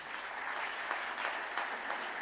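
A congregation claps during a church service, a continuous, even spread of many hands heard from a short distance, fairly soft and without voices.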